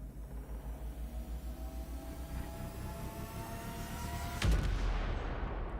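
Weapon fire in Space Engineers, a low, steady rumbling barrage of repeated pulses ending in a louder burst near the close, with no talking.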